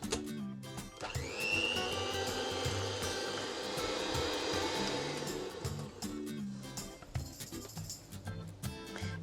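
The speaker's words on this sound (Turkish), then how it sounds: "Beyazlaşana kadar çırpıyorum." An electric mixer whisking eggs and a cup of granulated sugar until pale for a Turkish iftar dessert, a loud steady whine that starts after a second and runs on, its pitch dipping near the end as the beaters slow, no talk.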